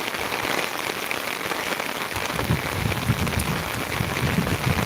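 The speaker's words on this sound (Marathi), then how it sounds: "पाऊस तर जोरात आहे" Steady, heavy rain pouring down on surfaces in windless conditions during flooding in Beed, a dense continuous hiss with drops pattering, no voices.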